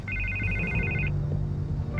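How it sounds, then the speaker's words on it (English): Telephone ringing inside Batman: The Telltale Series, a steady electronic ring in repeated bursts over a low background rumble, cutting off and starting again near the end. "I can't get the phone to stop ringing."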